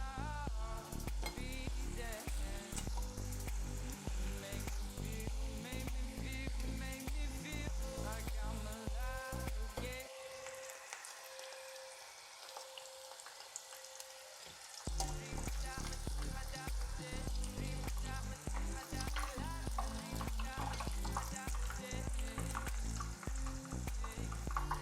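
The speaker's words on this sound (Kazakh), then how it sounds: "Осылай қалған ірімшік пен қамырларымызды қалғанның барлығын дәл осылай етіп қуырып аламыз" Cheese and dough pieces fry in a pan as a continuous loud sizzle, broken by a brief near-silent gap midway before the dense crackling resumes.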